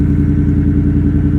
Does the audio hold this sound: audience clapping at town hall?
no